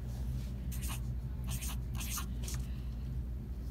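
Pencil writing numbers on paper during a rounding math lesson, several short scratchy strokes in quick bursts, close and fairly quiet over a low steady hum.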